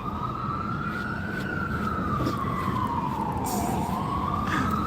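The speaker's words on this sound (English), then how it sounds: "When you hear the siren, you're supposed to stop." An emergency vehicle siren wails steadily and loudly throughout, its pitch slowly rising and falling over a constant rumble of road and engine noise from a car pulling over.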